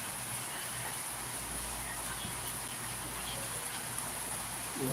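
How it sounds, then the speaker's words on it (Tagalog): Heavy rain pours down outdoors as a steady, dense hiss filling the whole stretch, loud and unbroken, with a low rumble beneath and no clear voices. "Grabe yung ulan."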